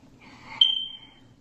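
A smoke detector gives a single short, high electronic chirp that is fairly faint and stands alone against a quiet background.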